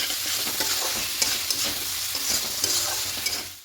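Fried potatoes are stir-fried with spice masala in a pan, giving a dense, loud sizzle with frequent spatula scrapes against the pan, close up, before fading out at the end; no one speaks.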